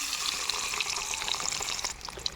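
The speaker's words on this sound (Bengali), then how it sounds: "নুন হলুদ দিয়ে ডিমগুলো আমি লাল লাল করে ভেজে নেব।" Eggs frying in hot mustard oil with salt and turmeric make a steady, bright sizzle with a wet, hissing crackle that holds at an even level throughout, with no voices.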